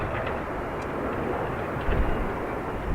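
A Boeing 767 taking off at Dublin Airport gives a loud, steady broadband jet roar with deep rumble underneath. It fills the whole stretch without a break, with a brief swell near the end and no voices.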